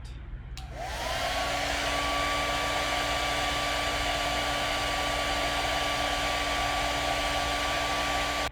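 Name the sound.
hair dryer drying clay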